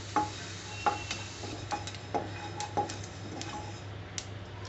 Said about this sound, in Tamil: எள்ளை லைட்டாக ரோஸ்ட் பண்ணால் போதும்